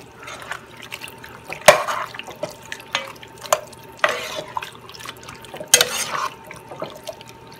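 Eggplant cooking water pours into a pot of chicken and eggplant, splashing in short bursts with drips and a couple of louder gushes, close by with no talking.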